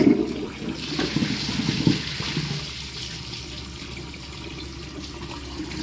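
A Glacier Bay toilet with a screw caught on its flapper gives a short, loud rushing flush in the first two seconds, then a quieter, steady trickle of refilling water continues alone.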